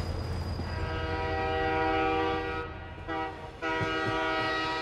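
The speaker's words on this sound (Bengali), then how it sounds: "রেল লাইনের ওপর ট্রেন চলার এই ঘটর ঘটর শব্দটা" A local train rolls along the rail track at night, a loud, sustained close rumble with a long blaring horn chord that drops out briefly and then resumes.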